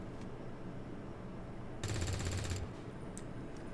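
Gunfire in the tactical game XCOM 2: one sharp burst of rapid automatic shots lasting under a second, loud against a quiet hum of game ambience, with a few faint clicks afterward.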